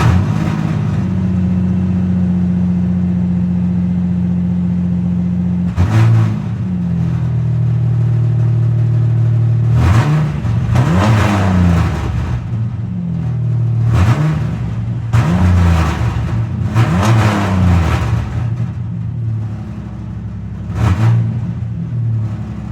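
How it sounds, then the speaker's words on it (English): A 1998 Ford Ranger with its original exhaust blown out starts up and idles with a loud, raspy rumble, then is revved in several sharp bursts that rise and fall over the steady idle. "This is my 1998 Ford Ranger with, I believe, the original exhaust on it. It's blown out now."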